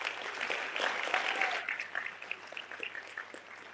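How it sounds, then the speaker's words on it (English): A gala audience applauds the honored organizations: a burst of clapping that swells quickly, then thins into scattered claps as it fades. "So let's give them all a round of applause."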